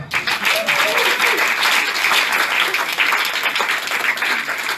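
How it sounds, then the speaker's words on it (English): A room full of symposium attendees applauds together during closing remarks, a sustained, loud wash of clapping that runs the whole stretch with a faint voice buried underneath. "Look at each other when doing that, because you're applauding yourself, you're applauding everybody in the room."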